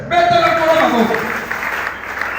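A church congregation applauds to acclaim the Lord, close clapping swelling briefly under a lingering voice before thinning out.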